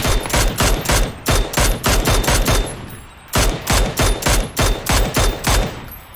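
Rapid automatic gunfire rattles at a buggy in PUBG, two evenly paced volleys of loud, sharp shots separated by a short pause, close and dominant.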